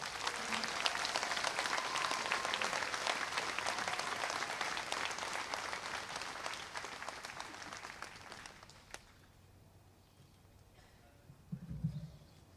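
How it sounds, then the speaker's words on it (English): A large audience applauds the graduating class of 2023 at a mid-year commencement ceremony, with sustained dense clapping for about nine seconds that then fades out, leaving a quiet hall with a brief low thump. "Let's give them another round of applause."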